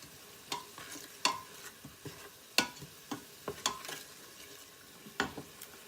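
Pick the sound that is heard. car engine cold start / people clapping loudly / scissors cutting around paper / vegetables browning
vegetables browning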